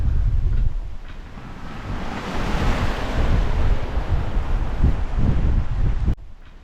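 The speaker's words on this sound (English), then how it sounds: "The wind did not die down as anticipated." Strong wind roars across the microphone while sea waves wash steadily around a sailboat off Charleston, a loud, continuous rush with no talking, cutting off abruptly near the end.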